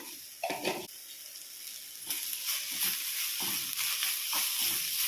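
Soya chunk (meal maker) sandwich filling with pepper is stirred in a hot pan, producing a soft hissing sizzle broken by several short scraping bursts from the spoon, close and fairly quiet.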